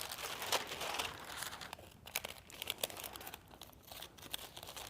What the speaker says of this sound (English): I'm gonna grab my paper scissors